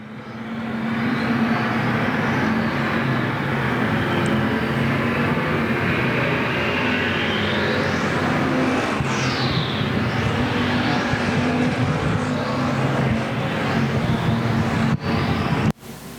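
Race cars run wheel to wheel out of a turn at Golden Triangle Raceway Park, a continuous loud engine roar with cars sweeping past close by, building and fading as they pass, and no talk.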